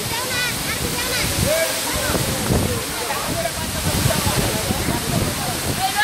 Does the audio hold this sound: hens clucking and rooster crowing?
no